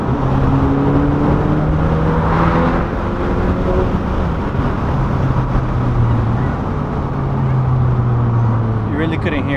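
A 10th-generation Honda Civic Si with an aftermarket intake accelerating hard on the road, engine droning loud and steady with rising tones under heavy wind noise from inside the car, continuous throughout.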